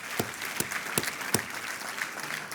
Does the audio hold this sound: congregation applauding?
yes